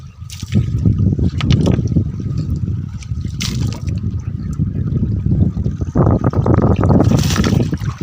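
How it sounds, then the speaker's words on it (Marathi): Strong rush of stream water built up behind a makeshift dam for traditional fishing, a steady broad roar close by that surges and churns throughout without pause. "पाण्याचा लोट बघा किती जबरदस्त आहे तिथं"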